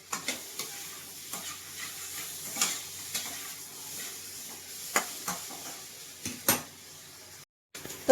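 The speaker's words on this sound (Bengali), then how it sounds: "এইভাবে তরকারিটা আমি সুন্দর করে কষিয়ে নিয়ে জল ঢেলে দেবো" Fish curry with homemade bori sizzles gently in a pan while a spoon scrapes and stirs in repeated sharp clacks, fairly quiet overall with a brief silence near the end.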